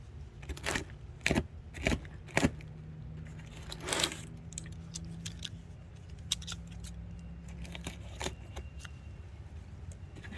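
Tape being cut with scissors to open a cardboard box holding a tree, several sharp snips and crunches early on, then quieter handling rustles of the cardboard.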